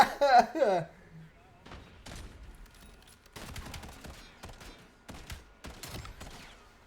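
Pistol gunfire in a sniper tournament video game, a series of sharp shots in irregular clusters following a brief burst of excited voice at the start, with scattered quieter talk between.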